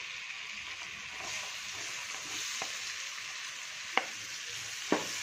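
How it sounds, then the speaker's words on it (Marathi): Chopped onion sautéing with ginger-garlic paste in butter for masala pav, a steady, fairly quiet frying hiss with a couple of sharp utensil clicks near the end, heard alone without talking. "हे छान परतून घ्यायचं."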